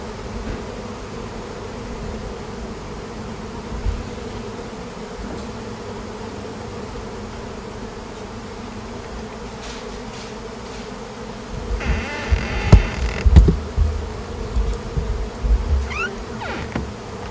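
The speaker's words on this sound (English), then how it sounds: "Bees everywhere." A honey bee swarm at a front door makes a continuous buzzing hum close by, joined near the end by louder, irregular bursts of movement and bees passing near.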